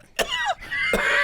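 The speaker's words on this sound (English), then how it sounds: "The air is polluted, making you cough." A single person coughs twice in quick succession, close and fairly loud, in a scene about breathing heavily polluted air in a future climate-change world.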